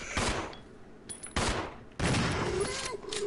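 Gunfire in the Resident Evil 0 video game: three loud, sharp shots at irregular intervals, each ringing out and decaying, with a voice talking faintly underneath.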